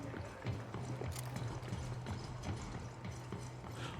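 Footsteps in the video game Ghost Recon Wildlands come as a quick, even patter of soft thuds, faint and steady over a low droning background.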